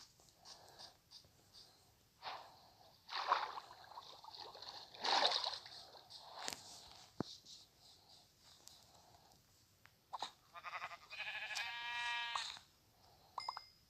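Several short sheep bleats with a synthetic, game-like tone in a survival video game, scattered across quiet background with soft rustling and a few clicks.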